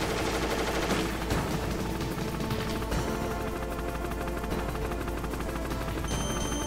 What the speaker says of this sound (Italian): Sparo qui, non lo becco.